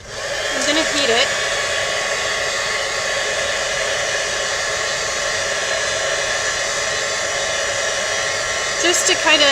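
A heat tool blows steadily to dry Brilliance ink, a loud, even, close rushing hiss throughout, with a brief faint squeak or chirp near the start and again at the end.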